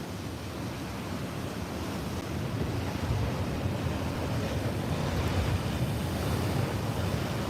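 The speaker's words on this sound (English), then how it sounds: "that's why the waves are breaking out the back where all the sand is" Ocean surf breaks steadily on the beach at Fingal, a constant loud roar of waves mixed with wind buffeting the microphone, with no talking.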